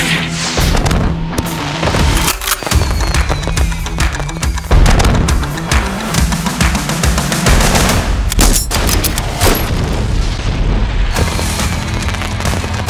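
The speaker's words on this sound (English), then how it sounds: "just in time for the fireworks." Fireworks at the Flash N Flare show go off in dense, rapid bursts, a loud continuous crackle of pops and booming blasts that barely lets up, with a few sharper bangs standing out.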